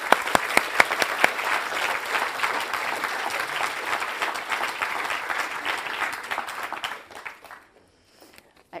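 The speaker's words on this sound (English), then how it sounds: "Let's have a round of applause." Audience applauding award winners at a youth app-making awards ceremony: a dense, loud wash of clapping that holds steady for about seven seconds, then tapers off into a few scattered claps and near-silence.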